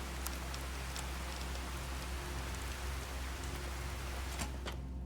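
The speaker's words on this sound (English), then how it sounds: "I'm just glad to be out of the rain." Steady rain falls in the video game Fallout: Tale of Two Wastelands, an even, unbroken hiss with scattered droplet ticks and no voices.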